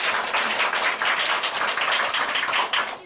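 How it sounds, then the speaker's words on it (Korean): An audience claps together at a company event, loud, dense applause with a brisk, even rhythm that carries through and fades at the end. "박수 한번 주세요."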